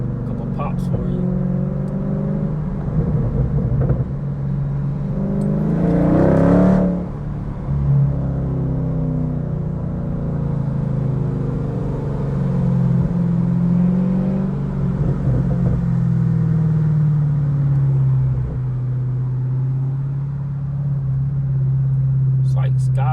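A car engine near and loud, rumbling and revving in long surges, with a brief crackling burst of exhaust pops partway through and talk heard over the engine in places.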